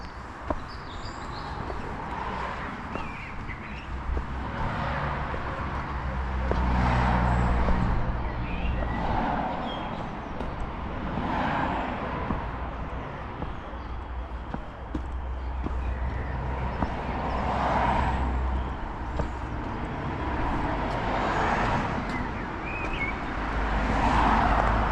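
Steady traffic rumble on a main road running past a church, with vehicles passing continuously at moderate distance and a low engine drone throughout, no talking.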